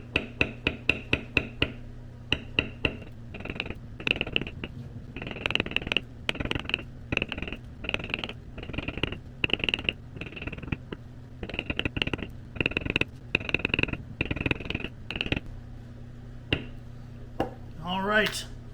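Steady rapid tapping of a metal beveling stamp struck with a mallet along a leather border for basketweave stamping, dense repeated close knocks in quick bursts with brief pauses, loud and near.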